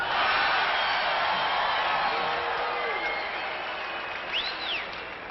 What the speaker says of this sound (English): she's over here standing up, just cheering up a storm